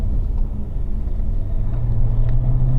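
Race car on a track, engine note rumbling close and loud under braking, then pitch climbing after a downshift, with no talking over it.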